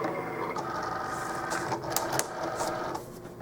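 A Cricut cutting machine loads a mat carrying vinyl, giving a soft, steady mechanical whir with a few brief motor surges and clicks over about three seconds, close and fairly quiet.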